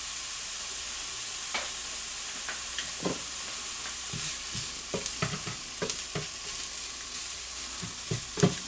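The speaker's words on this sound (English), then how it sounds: "I can see this is starting to bubble, so I'm going to turn the heat down just a little bit." Cheese omelet frying in a pan, with a soft steady sizzle under scattered spatula scrapes and taps against the pan, close and fairly quiet, no voices.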